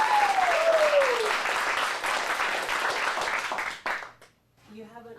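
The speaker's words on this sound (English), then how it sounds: "Let's give him a round of applause" Audience applause at an adult acting studio showcase, dense clapping with a whistle at the start, continuing for several seconds before stopping abruptly, followed by a voice beginning to speak.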